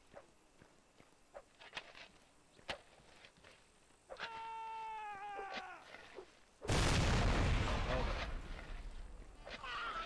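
Cannon fire in the Mount & Blade: North & South game: a loud, sudden boom strikes about two-thirds of the way in and rolls into a long, noisy rumble, after scattered clicks and a brief tonal sweep.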